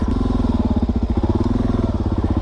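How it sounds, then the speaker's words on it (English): A Suzuki DRZ dual-sport motorcycle crosses a ditch with its engine close by, chugging in a steady, rapid pulse throughout and no talking. "I could ride across right here"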